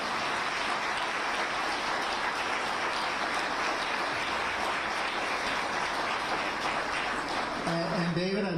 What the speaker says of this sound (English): How about a round of applause for all of our candidates here tonight?